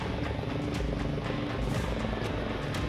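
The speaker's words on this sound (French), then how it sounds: "L'hélicoptère avait ensuite pour mission de récupérer chaque big bag un par un" Helicopter flying over a rail bridge work site, carrying big bags one by one on a windy job: a loud, close, continuous rotor thump with a steady rhythmic beat and heavy engine roar throughout, and no voices.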